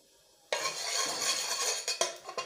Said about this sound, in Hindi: एक हमने पैन लिया उसके अंदर हम हाफ टेबल स्पून जो है ऑयल डालेंगे